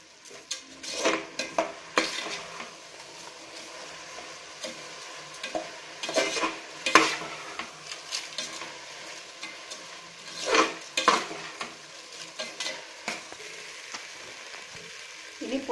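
Vegetables and biryani rice stirred and sautéed in a pan, with scraping spoon strokes and clinks against the metal, a steady soft sizzle underneath, and louder bursts of stirring coming every few seconds, close and fairly loud.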